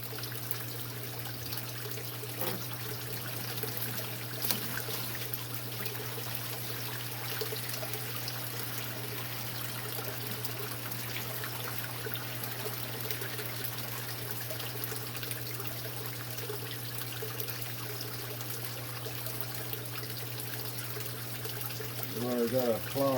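Water siphoned out of a brackish aquarium through an open vinyl hose, with a steady trickle and gurgle running under a constant low hum, growing a little louder near the end.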